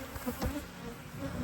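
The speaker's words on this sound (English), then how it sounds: "not as many bees as I'd like" Honeybees in a hive being split and requeened hum in a faint, continuous buzz, fairly close, with no voices.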